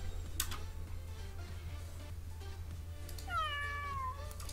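A cat unit in the video game Legion TD 2 gives one clear, close meow with a falling pitch near the end, over a faint background hum and scattered game clicks.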